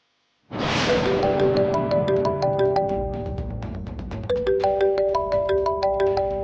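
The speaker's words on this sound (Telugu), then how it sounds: "రాధికేంటి ఈ టైంలో ఫోన్ చేస్తుంది?" A mobile phone ringtone for an incoming call plays loud and alone, a looping melody of bright electronic notes that repeats in two phrases after a sudden start.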